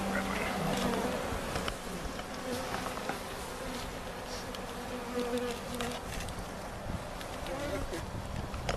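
Honeybees buzz steadily around an open backyard hive as it is inspected, a dense close insect drone running throughout with people talking nearby.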